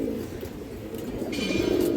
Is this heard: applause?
no